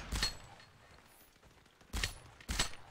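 Enemy gunfire in a video game: a few sharp shots, one early and then a close pair near the end, separated by quieter background noise, fairly faint overall.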